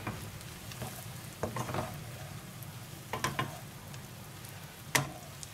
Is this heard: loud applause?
no